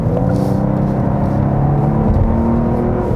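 A Genesis G80 3.5 Turbo AWD accelerates in sport mode, heard from inside as a loud, steady low engine drone with rising whirring harmonics and road rumble, no talking.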